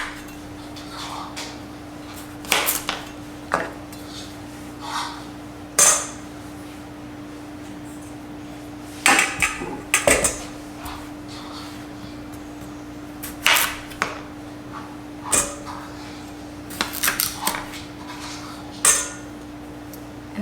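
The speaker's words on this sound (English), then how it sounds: "you want to cut the tops off so you're getting rid of the big stem right there" A knife cuts the stem tops off squash on a board, with several sharp, separate chops and clicks spaced across a quiet kitchen with a steady low hum.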